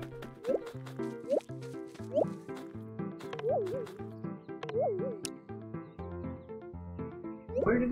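Water in the Staxel video game sounds as a string of bright, bubbly drips and plops in a loose rhythm, fairly soft and up close, over a light musical background.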